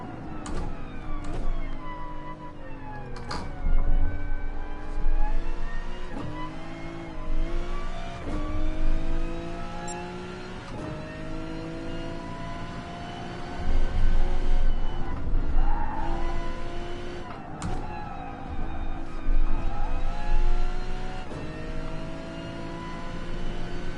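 An Aston Martin V12 Vantage race car in GT Sport howls around the Dragon Trail circuit, its engine loud and steady, rising and falling through gear changes with repeated revving surges and occasional skids, with no talking.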